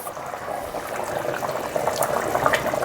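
A pot of curry with mango, brinjal and tomato pieces bubbles on the stove, a steady close simmering burble of liquid that grows slightly livelier toward the end.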